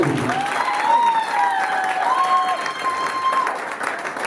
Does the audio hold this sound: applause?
yes